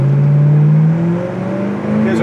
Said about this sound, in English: Scratch, that was a burn. Second gear burn.